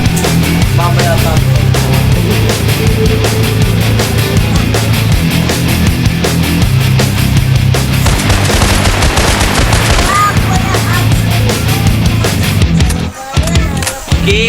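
Rapid bursts of automatic gunfire in Minecraft multiplayer rattle almost continuously, loud and close, with game-like effects and a brief drop near the end.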